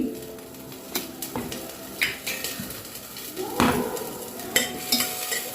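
Garlic, onion and chili frying in a pan for a mung and matki soup, with a light sizzle under frequent clanks and scrapes of a spoon stirring against metal, close by.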